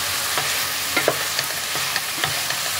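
A spatula scrapes and taps as broccoli curry is stirred in a hot pan with salt and sugar, steady sizzling under a handful of distinct clicks, close and with no talking.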